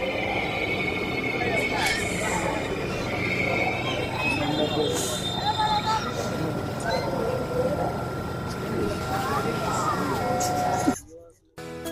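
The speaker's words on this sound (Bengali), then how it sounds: "অবশেষে মেট্রো রেল আমাদের প্ল্যাটফর্মে চলে এসেছে" A Dhaka metro train rolls into Uttara North station platform with rumbling wheels and a faint squeal, steady for several seconds before stopping abruptly, amid crowd chatter.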